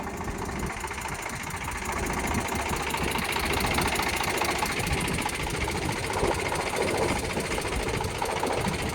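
Close, continuous chugging and rattling from a tractor engine running with its double PTO engaged. The clattering drone holds steady and grows slightly louder after the first couple of seconds, with no voices over it.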